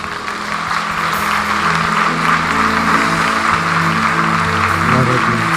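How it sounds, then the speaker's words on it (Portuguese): A church congregation claps during a service. The clapping is continuous and dense, with sustained low musical tones underneath. "Se eu fosse você, eu começava a aplaudir Jesus."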